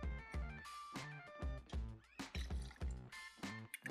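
Citrus juice pours and glugs into a cocktail shaker in short, uneven bursts, with liquid trickling and splashing close up and no talking.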